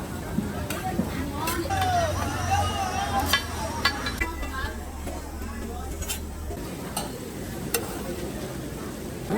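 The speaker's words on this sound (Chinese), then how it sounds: "煎玉米面" Cornmeal cakes fry on a griddle at a Hainan street food stall, a steady soft sizzle with scattered sharp ticks and scraping of a spatula, while people talk over it.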